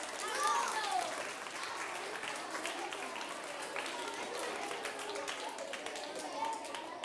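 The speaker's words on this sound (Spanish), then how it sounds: "¡Un aplauso!" At a children's science show, the audience breaks into lively clapping that runs steadily throughout, soft and somewhat distant, with children's voices and chatter mixed into the applause.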